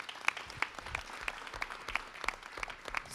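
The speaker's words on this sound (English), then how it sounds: "I want us to lift them up with a round of applause" Audience at a district attorney candidate forum clapping, a faint, fairly steady patter of handclaps with a few sharper individual claps standing out.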